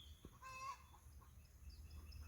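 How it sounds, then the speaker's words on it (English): Backyard chickens clucking in the morning on a small garden farm, a short run of clucks and a rising call heard faintly at a distance over low outdoor background. "My chickens are having their morning meeting, perhaps."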